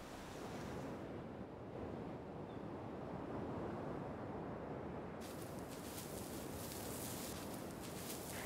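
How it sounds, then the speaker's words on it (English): Ocean surf and strong wind on the Irish coast, a continuous broadband roar of breaking waves with gusting wind buffeting the microphone, loud and steady throughout with no voices. "there's always the sound of the wind"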